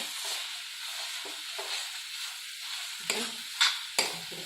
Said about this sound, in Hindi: चलाते हुए भूनेंगे ताकि बेसन का कच्चापन भी निकल जाए और साग में अच्छी तरह मिक्स हो जाए